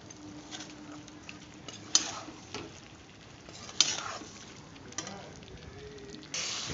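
Chicken pieces coated with turmeric, salt and Kashmiri red chilli powder sizzle and patter in a pan while being stirred and fried for chicken korma, a steady close frying hiss with occasional spoon scrapes.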